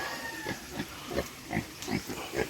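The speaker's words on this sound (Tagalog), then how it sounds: "ang gandang mga baboy" Repeated short grunts from pigs on a farm behind a house, about eight snorts in a loose rhythm, fairly close, with steady background noise underneath.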